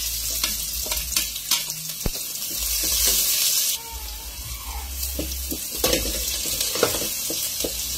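Garlic and onion sizzle and sputter in a hot pan for chicken tinola, a steady frying hiss broken by scraping stirs and a brief rush of water, close and fairly loud.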